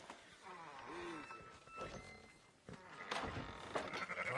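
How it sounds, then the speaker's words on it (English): Sheep bleat in Red Dead Redemption 2, a few wavering, nasal calls, mid-distance, mixed with rustling and other ambient game sounds; someone speaks faintly underneath. "Fine sheep."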